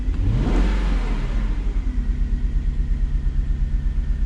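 A Jaguar XK8 engine with a faulty knock sensor revs up and then settles to a rough, uneven idle, its misfire heard as a loud, pulsing, lumpy beat close by, with no talking.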